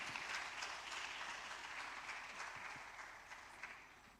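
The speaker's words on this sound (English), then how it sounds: "please, a round of applause" Audience applause at an education summit awards event, a dense wash of clapping that starts fairly strong and slowly fades, heard from a distance and fairly faint.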